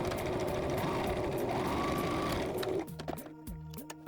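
A sewing machine stitches a dart along the bottom of a plush side body piece, running in a steady whirring buzz for about three seconds before stopping, followed by quiet intermittent tones.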